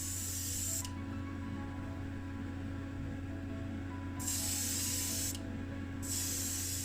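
Aerosol spray can laying purple enamel over black primer on a 1972 Matchbox Superfast toy car, two steady hissing bursts close to the microphone separated by a pause, over a constant low background hum.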